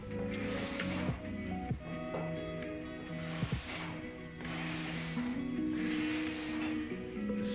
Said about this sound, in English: The scraper does such a good job at that.